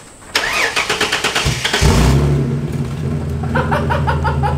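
A Barraptor car engine fires up for the first time: a rapid cranking chatter, then a loud catch and rev that settles into a rumbling idle close by.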